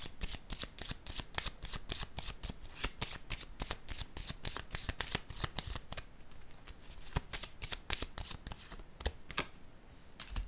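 Tarot cards are shuffled and drawn in a steady run of quick, crisp riffling flicks, close and continuous, with the rhythm thinning out briefly toward the end.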